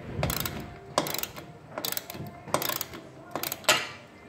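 A ratchet loosens a bolt on a small garage door's track bracket, giving repeated close clicking strokes about once a second with short metallic rattles between.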